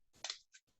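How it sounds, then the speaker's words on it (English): Large scissors cut a tiny hole along the fold of a sheet of paper while making a kaleidoscope: two quick, faint close-up snips in quiet surroundings. "cutting this very tiny hole"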